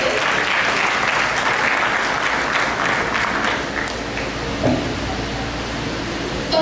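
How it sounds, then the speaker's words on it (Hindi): Loud, dense applause from a school audience welcoming a young poet at a Hindi-week children's poetry recital, a steady wash of clapping that eases slightly toward the end. "जोरदार तालियों से स्वागत है।"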